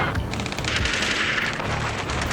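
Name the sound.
machine gun fire in video game Ace Combat 7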